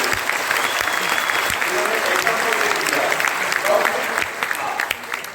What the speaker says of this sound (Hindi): जोरदार एक बार ताली होती है